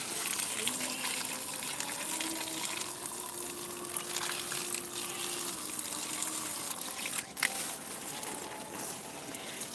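Garden plants being watered, a steady gushing, splashing stream of water running continuously at moderate distance, with a brief faint tonal hum and no clear talking.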